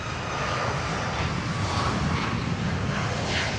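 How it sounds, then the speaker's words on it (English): A small regional airliner's engines drone steadily in flight, a loud, unbroken broadband roar heard from inside the cabin with no other sounds over it. "Plane."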